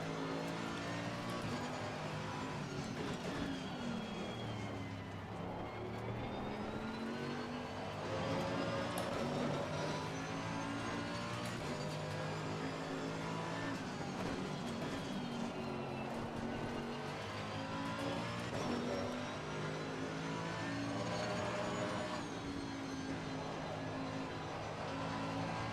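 Race car engine in Assetto Corsa Competizione, held at high revs with rising and falling pitch and tire noise while the tires are warmed on track at Barcelona; loud and continuous throughout.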